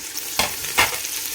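Vegetables with mint and coriander are stirred in a sizzling frying pan, two distinct scraping stirs over a steady close hiss of hot oil.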